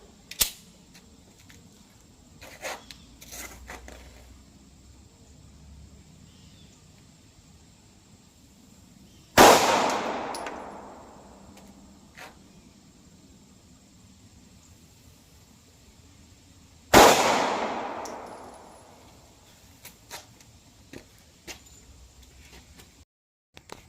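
A Glock 42 pistol with a 3.25-inch barrel fires two .380 Defender XTP rounds into ballistic gel. The two sharp, loud reports come several seconds apart, each followed by a decaying ring over quiet background hiss.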